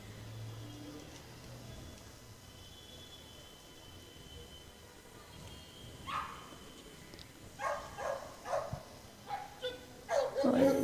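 Simba, a police dog performing a fire ring jump at an outdoor Independence Day show, lets out a series of sharp barks, at first sparse, then clustered and louder toward the end over faint background noise.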